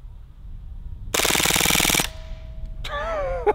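A full-auto CO2 BB gun fires one rapid, loud, close burst lasting about a second toward a steel target, followed by a brief ringing tone and then a rattling, whistling after-sound.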